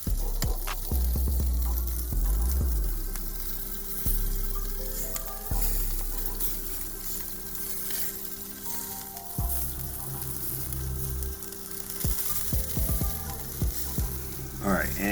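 Bacon-wrapped shrimp and chicken wings sizzle steadily on a Weber kettle grill, a close, constant crackling hiss with occasional clanks and shuffles as the pieces are rotated, over a low hum.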